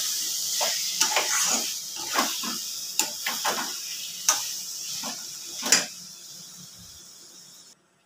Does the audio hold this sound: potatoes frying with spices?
yes